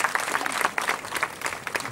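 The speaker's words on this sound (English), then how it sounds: "Clap for yourself." Applause from an audience at a college project expo, a steady wash of many hands clapping for about two seconds, fairly close and continuous with no speech over it.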